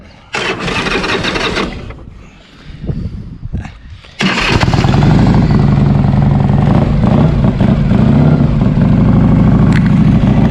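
A Harley-Davidson Street Glide engine sputters to life, idles briefly, then roars into a loud, steady rumble with rising revs, close by.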